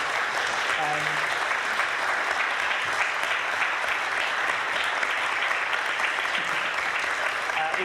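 Sustained applause from a sizable audience at the Bi Pride UK 2022 stage, steady and even throughout with no pauses.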